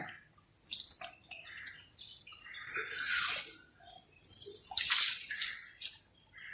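Water from a tap during ablution, splashing and trickling intermittently onto hands and skin in short bursts with soft drips between, close and fairly quiet.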